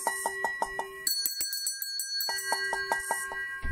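A small metal bell rings in quick repeated dings, a bright rhythmic burst, then a brief pause before another run of rapid strikes; close and clear with no speech.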